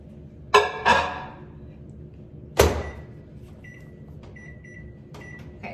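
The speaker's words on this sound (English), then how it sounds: "So I'm gonna open my microwave." A kitchen microwave oven door clunks open and shut with two sharp knocks, then another loud latch thud, followed by a series of short electronic beeps and a faint running hum.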